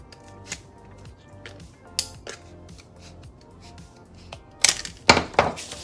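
Scissors cutting a 2-inch piece of a homemade wind chime banner in half, with scattered close snips and clicks, a few louder crisp cuts near the end, no voice.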